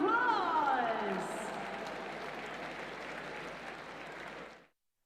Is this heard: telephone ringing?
no